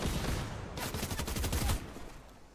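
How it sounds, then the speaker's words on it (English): A rapid burst of gunfire, like an automatic weapon in Fortnite, firing in a fast rattling string for about a second over steady background noise. "I'm hearing a bunch of gunshots"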